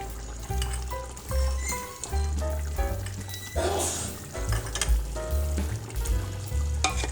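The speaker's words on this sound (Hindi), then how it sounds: "तकरीबन 10 मिनट के लिए मैं इसको अच्छी तरह से भूनूंगी।" Two tablespoons of ground ginger sizzle steadily in about a cup of hot oil, a continuous frying hiss with a brief louder burst midway, set under steady background music.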